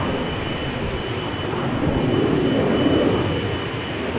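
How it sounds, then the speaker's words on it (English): Jet engine roar from a Boeing 787 Dreamliner bound for Rio de Janeiro lining up on the center runway threshold at Amsterdam Schiphol. A steady, broad, distant rumble holds level throughout, swelling slightly midway, with no voices. "the Dreamliner to Rio de Janeiro is lining up on the threshold of center"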